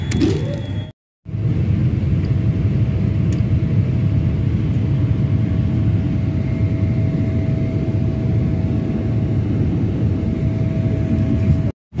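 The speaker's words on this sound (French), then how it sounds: "Ok, donc on a décollé et moi je vous montre la caméra du bas." A passenger airplane taking off, heard from inside the cabin as a loud, steady engine roar and low rumble that holds for about eleven seconds with a faint whine above it.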